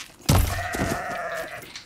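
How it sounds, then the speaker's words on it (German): A single bighorn sheep bleat in the video game Horizon Forbidden West, a sudden close, nasal wavering cry after a brief soft thud, sustained for over a second before fading. "Dickhorn, ne? Dickhornschafe."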